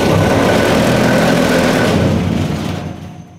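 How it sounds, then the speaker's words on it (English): Vibration motor on an ASCO SD Mini drum screen sieving machine runs as a loud, steady mechanical hum close by, with no talk, then tails off in the final moments. "Additional option while screening is turning on the vibration motor"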